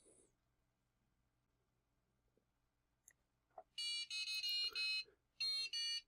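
An Arduino-driven piezoelectric speaker plays a short melody of shrill, buzzy electronic tones in two bursts after a few soft clicks, loud and close in a quiet room.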